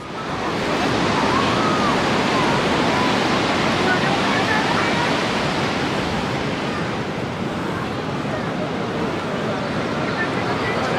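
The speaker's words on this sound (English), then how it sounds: "the tides are quite rough, as you can see" A loud, continuous roar of rough surf crashes and washes on Miramar Beach in Goa, mixed with blustery wind buffeting the microphone.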